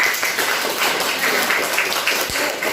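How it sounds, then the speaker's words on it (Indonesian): Students in a classroom give a steady round of applause, with dense clapping that is fairly loud and sustained throughout, plus a few sharper taps mixed in. "Kita kasih aplaus untuk semuanya"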